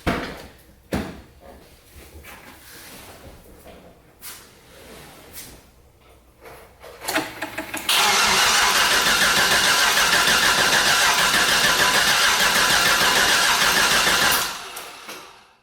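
A car engine with a locked tuner ECU and an active VATS anti-theft system cranks on a start attempt. Scattered clunks and handling noises come first, then a loud, steady starter grind runs for about six seconds without catching.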